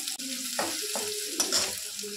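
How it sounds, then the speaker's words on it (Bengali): Onion, garlic and spices fry in a pan with steady sizzling while a spoon stirs and scrapes in several short strokes, close up and fairly quiet, with no talking. "এখানে আমার মশলাটা ভালো করে ভাজা হয়ে গেছে, পেঁয়াজ রসুন সব"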